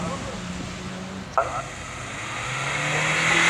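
A rally car at the Prescott hill climb accelerates hard away from the start line, its engine note rising after a sharp burst, while a commentator talks over the roar.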